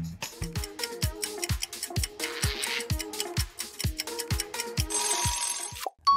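A telephone rings in a cartoon, a repeated electronic ringtone of short bright pulses in a steady rhythm, each with a low thump, with a brighter burst near the end and no speech.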